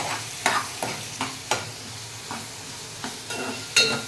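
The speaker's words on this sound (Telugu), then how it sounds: "ఆయిల్ వేసుకున్నాను ఉల్లిపాయలు వేసుకున్నాను పచ్చిమిరపకాయలు టమాటా" Onions, green chillies and tomatoes sizzle in hot oil for a home-style chicken curry. The steady frying hiss is broken by a series of sharp stirring scrapes at irregular intervals, and nobody speaks.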